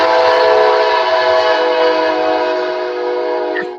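A Kansas City Southern Railroad train passing through town blasts one long, very loud, sustained horn chord close by, fading slightly near the end, alone without talk.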